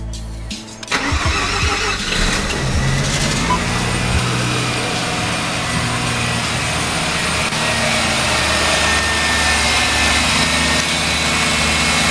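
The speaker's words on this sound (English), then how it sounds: "I've removed all the tools, and I'm going to be starting the car up." A Mazda RX7 Type RS engine cranks briefly, then catches and settles into a loud, steady idle that runs on close by for several seconds.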